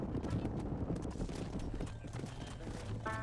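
Horse hooves clip-clop steadily in Red Dead Redemption, joined by a brief whinny, with game music and ambience underneath and no voices present.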